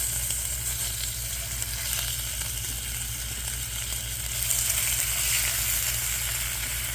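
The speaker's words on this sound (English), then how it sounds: "Let's fry it up just like bacon." Thick slices of pork butt bacon frying in a hot cast iron pan, a loud continuous sizzle and crackle that holds steady and swells slightly toward the end, with no voices.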